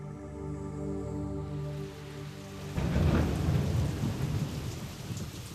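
Heavy monsoon downpour with thunder: a rumbling roll of thunder gives way to a loud, steady roar of rain pounding surfaces, with no voices.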